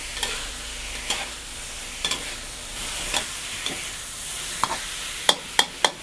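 Pieces of fried fish are stir-fried dry for phat cha. A soft sizzle runs underneath while sharp scraping clacks of a utensil against the pan strike at irregular intervals, coming more quickly toward the end.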